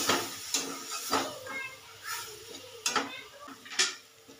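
Spice paste with turmeric and yogurt being stir-fried for cauliflower rezala, with a utensil scraping and clinking against the pan in a few separate strokes over a soft steady sizzle, close by and fairly quiet.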